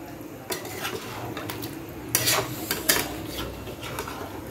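Mutton curry with potatoes being stirred and sautéed in a pan, a metal spoon scraping and clinking against the pan in irregular strokes, with a few louder scrapes over a steady low background.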